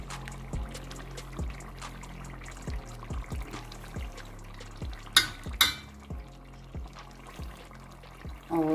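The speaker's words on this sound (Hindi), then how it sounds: "और अब हम इसको अच्छे से मिक्स कर लेते हैं।" Yogurt being stirred into chicken cooking in a pan, with a steady rhythm of soft scraping strokes, a faint sizzle underneath, and a couple of sharper utensil knocks partway through.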